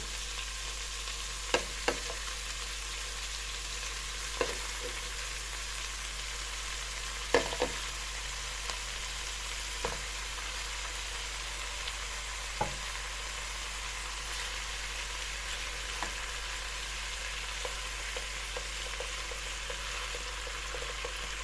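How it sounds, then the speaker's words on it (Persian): Onions and meat fry in a pan with a long, steady sizzle. Sparse clicks of a stirring utensil scrape and tap against the pan at irregular intervals. No voices are heard. "یه مقدار کمی هم گوشتا رو تفت میدم که رنگش عوض بشه."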